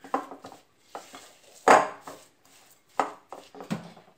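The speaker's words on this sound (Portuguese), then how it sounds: "Eu tô misturando bem mesmo, pra ficar bem misturado o sal que eu quero ter." Homemade meat and vegetable seasoning of salt and pepper being mixed in a container, irregular close scraping and tapping knocks with quiet pauses between them.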